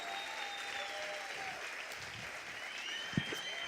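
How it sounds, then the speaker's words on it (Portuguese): Steady audience applause from a seated crowd at an event, dense even clapping filling the whole stretch at moderate loudness, with a brief louder thump near the end. "Tânia Mujica, palmas, por favor."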